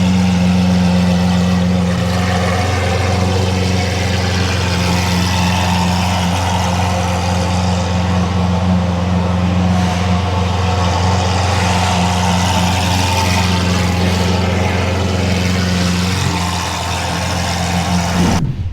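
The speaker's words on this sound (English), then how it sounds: "he's got Dan's car on the dyno now for some final dyno runs to check everything with the Gintani ECU tune is fine" A Lamborghini running on a dyno with a Gintani ECU tune, its engine droning loud and steady at close range for the whole stretch, the pitch nearly constant with only slight wavering.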